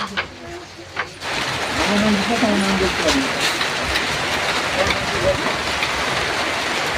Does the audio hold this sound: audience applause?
no